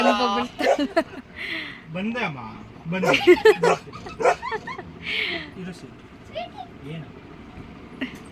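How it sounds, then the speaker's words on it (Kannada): A jealous female house dog lets out a few sharp yips and barks scattered among steady talk from a woman nearby, with the dog's sounds brief and intermittent. "ಅಲ್ಲೋದ್ರೆ ಸುಮ್ಮನೆ ಇರ್ತಾಳೆ ಇಲ್ಲಿಗೆ ಬಂದರೆ ಬೊಗಳ್ತಾಳೆ"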